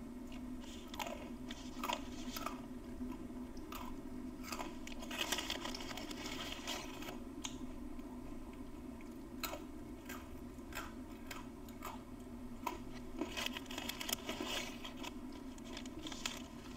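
Little crunchy taco-flavored stick snacks are chewed close to the mic, with repeated crisp crunches and bites in an irregular rhythm over a quiet steady background hum, with no talking.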